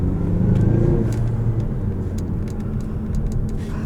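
A 2018 Mazda6 accelerating in normal drive, heard from inside the cabin as a steady low engine rumble with road roar that holds loud and even throughout, with no talking.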